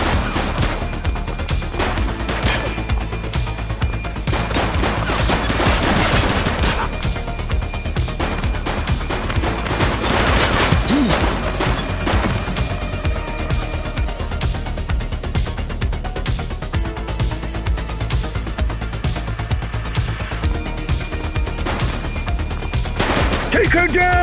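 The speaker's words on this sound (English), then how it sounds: "She's shooting!" Gunfire from a suspect in the police video game The Precinct, dense bursts of rapid shots and crashing impacts over a steady game soundtrack, loud and sustained for the whole stretch.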